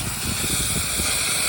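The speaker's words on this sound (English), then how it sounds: "Love my steam cleaner." A steam cleaner releases a short, steady hiss of steam, close and moderately quiet, a smooth broadband spray with no voices.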